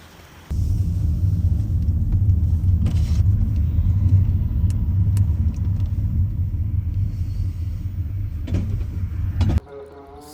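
A car drives on a road near Taif, its engine and tyre rumble steady and close for about nine seconds before cutting off abruptly, with faint passing noises and no clear talk.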